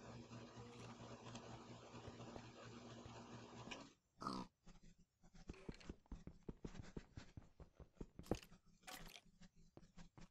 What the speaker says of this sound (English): Oh, I just heard a pig.